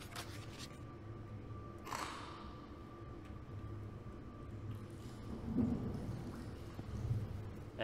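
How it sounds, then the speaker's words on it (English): Soft steady rain patters in the game Into The Radius, with a low rumble of thunder rolling in around the second mark and faint distant rumbles continuing afterward. "It's starting to rain."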